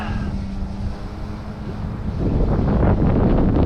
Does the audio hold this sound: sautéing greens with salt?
no